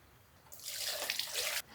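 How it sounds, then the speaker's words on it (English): Water poured from a tap into a cooking pot over minced garlic and chicken scraps for gravy, a short close rushing splash lasting about a second before cutting off. "And then we're going to top that off with some water."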